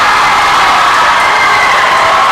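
A packed high school boys' regional tournament basketball crowd roars and jeers in response to a referee's ruling, a loud, steady, dense wall of voices with no pauses across the whole moment.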